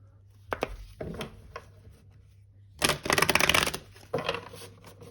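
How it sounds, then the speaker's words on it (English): Crisp riffling bursts of tarot cards being shuffled, a few short flicks followed by a longer rapid run and another brief burst, close and fairly loud. "Okay, we'll do one last shuffle."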